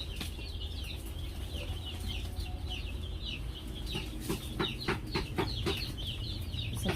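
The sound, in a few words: Rhode Island Red chicks chirping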